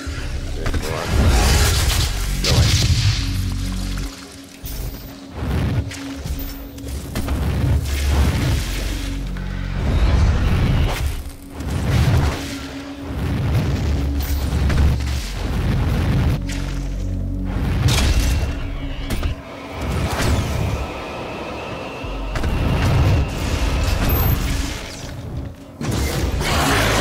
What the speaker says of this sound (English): Lots of missiles.